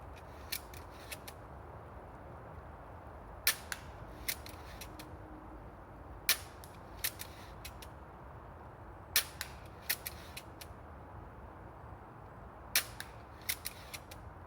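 Shots from a semi-automatic slingshot rifle fired at a bottle outdoors, sharp snapping releases in short bursts of two or three, separated by pauses over a quiet, steady background.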